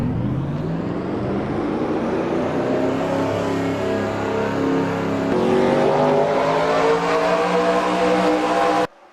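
Several RC race cars on an oval track at a Talladega-style cup race rev their engines together at the start, a steady droning whine that rises in pitch, loud and alone, then cuts off abruptly.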